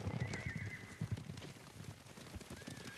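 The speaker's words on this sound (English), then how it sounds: "Horses, they're coming for us." Horses approaching in Ghost of Tsushima: rapid clip-clop hoofbeats with a couple of whinnies, moderately loud and drawing near, with no talk.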